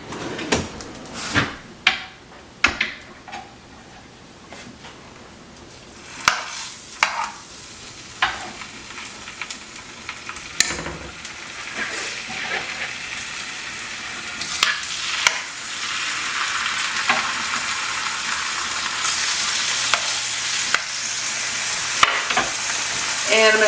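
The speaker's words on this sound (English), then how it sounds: "put the chicken in, and I just want to get it seared nice and brown on each side" Chicken pieces sear in a hot pan for a homemade pasta sauce, starting as a few sharp clacks and knocks before a steady close sizzle builds and grows louder, with occasional clatter of utensils and cupboards.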